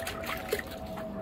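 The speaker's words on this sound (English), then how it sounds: "I'm just going to go ahead and dunk a towel" A towel dunked into a bucket of rinseless wash water for car detailing gives a soft, brief slosh and trickle, faint and close under a steady background hiss.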